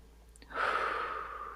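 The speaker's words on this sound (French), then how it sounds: "Et on respire." Single slow, deep exhalation during a gentle morning yoga routine, a soft breathy rush that swells and fades over about a second, close to the microphone with no talk.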